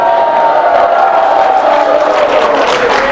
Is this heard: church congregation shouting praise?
yes